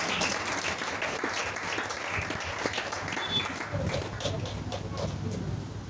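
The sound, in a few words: congregation applauding and cheering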